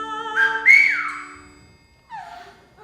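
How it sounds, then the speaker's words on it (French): Someone whistles a few wavering, sliding notes, then pauses and gives a short falling whistle, close and clear. "se met à siffler comme ça"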